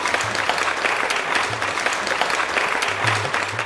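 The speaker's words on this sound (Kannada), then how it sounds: "ಸರಿ, ಕಾರ್ಯಕ್ರಮ ಪ್ರಾರಂಭಿಸೋಣ ಜೋರಾದ ಚಪ್ಪಾಳೆಯೊಂದಿಗೆ." Audience applause opening a farmers' programme on integrated pest management, a steady dense patter of many hands clapping throughout, fairly close and even, with brief tonal sounds poking through.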